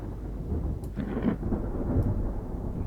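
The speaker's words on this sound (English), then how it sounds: "Here comes the storm." A thunderstorm with a rain squall over the sea in a naval warfare game brings a low, continuous rumble of thunder and steady rain, with a couple of faint crackles on top.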